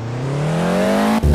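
A first-generation Honda NSX engine revs hard in the Driving School Classic racing game, pitch climbing steadily as the throttle is held down, loud and close, then a brief gear-change dip before the revs continue.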